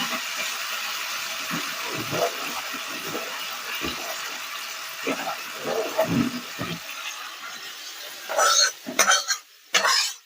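Spiced masala stirred into a pot of khichuri, a steady scraping and clinking of spoon against metal with soft low thumps, then a few sharper, louder scrapes near the end; no talk.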